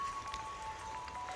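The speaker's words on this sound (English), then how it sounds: "raining pretty solid rain right now" Solid rain falls on a snow-dusted forest hiking trail, a faint, steady patter and hiss of drops throughout with no voices.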